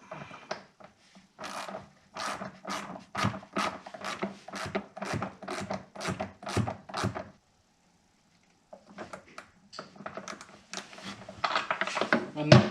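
A 3/4 inch socket ratchet tightens a flare fitting on a camper stove, making a quick run of crisp, evenly spaced clicks. After a short pause, a second, denser burst of ratcheting follows, close and fairly quiet.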